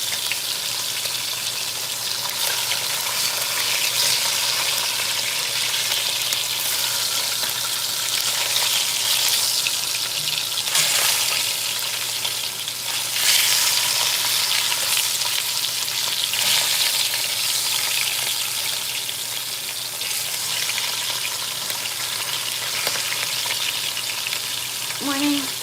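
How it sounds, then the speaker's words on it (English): Beef browning in a hot pan for braised beef sizzles and fries steadily for the whole stretch, with occasional louder spatters and stirring noises and no speech. "I'm just browning the beef right now"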